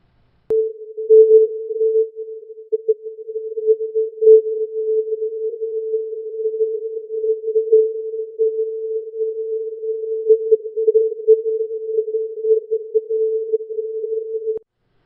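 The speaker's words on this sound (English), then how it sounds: "you'll hear that it's that A tone" A steady synthesized A440 tone holds on one note for about fifteen seconds, thin and pure, wavering slightly in loudness, with no talking.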